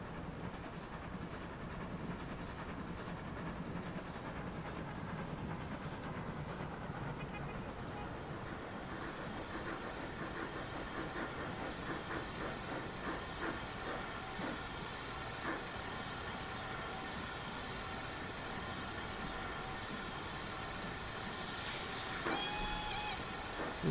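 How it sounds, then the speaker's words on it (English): A passenger train pulls into a station in the video game Transport Fever 2, a steady low rumble with rhythmic rail clatter that stays even and moderately quiet throughout, with no voices. "Here comes the train."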